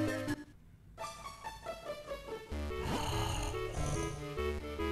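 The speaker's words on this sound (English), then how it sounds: "Talon snore" Talon snores in Zelda: Minish Cap, a cartoonish in-game snore that rises and falls in rhythmic breaths over the game's cheerful background music.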